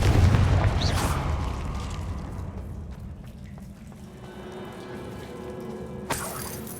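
A fiery Confringo spell blast in the Hogwarts Legacy game: a loud booming burst at the start that rumbles and decays over several seconds, then a sharp crack near the end.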